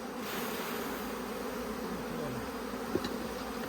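Honey bees buzzing around an open hive during a hive inspection, a dense continuous droning hum up close, with a faint tap of equipment near the end and no speech.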